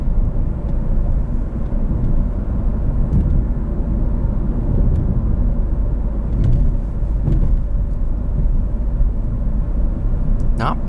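A 2018 Ford Focus SE drives over a back road during a suspension test, heard from inside as a loud, continuous low road rumble and engine drone with occasional faint bumps.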